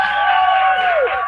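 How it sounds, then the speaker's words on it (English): Crowd cheering at a state fair stage show, a steady wash of voices and whoops from a live audience, fairly loud and continuous for about a second. "Can you give a big cheer for Kevin Costner?"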